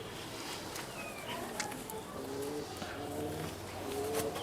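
Giribaz pigeons coo softly in low, rolling phrases against a constant background hiss. The cooing repeats throughout and stays faint, and no voice is heard over it.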